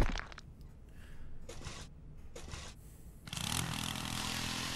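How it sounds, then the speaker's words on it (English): Drill running in a video game, whirring in short bursts with gaps between, then settling into a louder continuous grinding drone toward the end. "let's do the drill"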